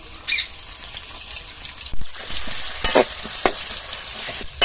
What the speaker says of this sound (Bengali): আমি প্রথমে একটু বেরেস্তা ভেজে নেব। দিয়ে দেবো পেঁয়াজ কুচি।